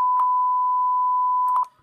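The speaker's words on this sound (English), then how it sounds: "Sensor beep." A sensor in the Five Nights at Spy's video game gives one sustained electronic beep tone, clean and steady, with small clicks near its start and end before it cuts off.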